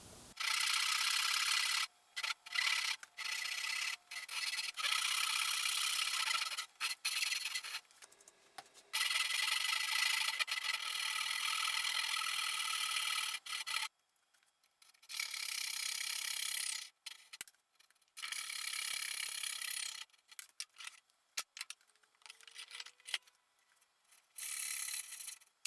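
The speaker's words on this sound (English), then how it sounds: "And now I just continue that cut down to the marking line." A hand saw cuts a dovetail joint in wood down to a marking line, giving quick rhythmic rasping strokes in bursts with short pauses between them, close and fairly faint.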